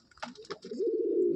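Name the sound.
pigeons cooing, a pair for sale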